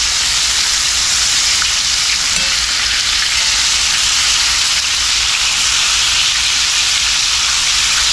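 Chicken pan-frying in a hot skillet for Southern fried chicken, a steady loud bright sizzle and crackle of hot oil close up, continuous with no talking.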